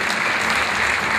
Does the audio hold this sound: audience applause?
yes